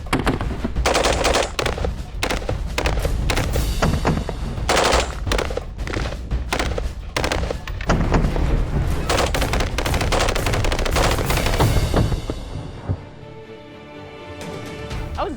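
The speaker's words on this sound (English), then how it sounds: "I'm going to switch this to fully auto. That is my firearm and it will shoot." A fully automatic firearm fires long, rapid bursts outdoors at a shooting event, loud and close, with sustained rattling strings of shots broken by brief pauses and tapering off near the end.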